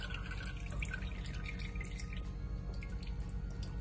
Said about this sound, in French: Je vais juste égoutter l'excès d'eau.